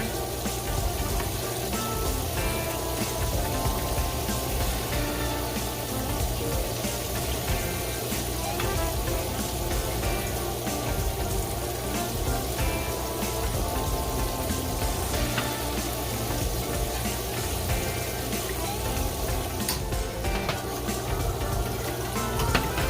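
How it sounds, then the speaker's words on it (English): Shrimp frying in hot oil give a steady, dense sizzle that stays even and close throughout, with no talking over it. "Let those fry a little bit longer."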